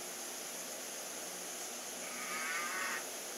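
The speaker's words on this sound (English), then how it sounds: "Cow." A cow moos once, a faint drawn-out low call near the end, heard over a steady hiss with no one talking.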